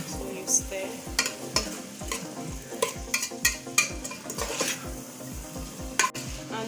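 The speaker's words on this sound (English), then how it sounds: "So you stir." Fried rice with curry, salt, garlic and ginger powder stirred in a pan: a steady run of scraping, clinking spoon strokes, roughly two or three per second, over a constant close sizzle, with no talking.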